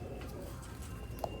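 Pigeons cooing at a pure-breeder loft of rare Sialkoti pigeons with young birds, a soft steady murmur of low coos running throughout at low volume, with no one speaking.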